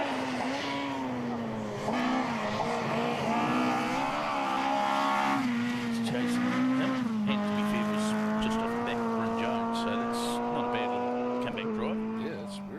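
Honda rally car with a sequential gearbox racing a gravel stage in New Zealand, its engine note steady and strong with rising and falling revs as it shifts, heard continuously at close to mid distance with commentary talk over it.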